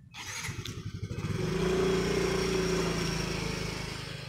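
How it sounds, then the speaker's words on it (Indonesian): A motorcycle engine idles with a rapid putter, then revs up into a sustained drone, fairly close and steady. "ini motor si Dedi Kocir"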